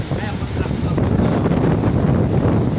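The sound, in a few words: wind blowing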